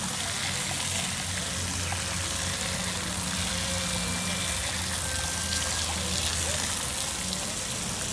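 Low pressure water rinsing through an S&B air filter during cleaning, a steady hiss and patter of spray running continuously at moderate level, with no voices.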